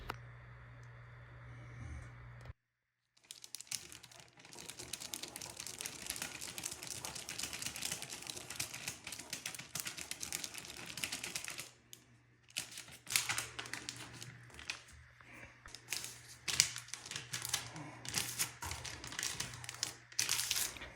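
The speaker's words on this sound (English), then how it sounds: "Now I'm going to go ahead and mix up the Bondo with the cream hardener" Bondo body filler is mixed with cream hardener by hand for a bathtub chip repair, producing close irregular tapping, scraping and smearing clicks in bursts with short pauses, no voices.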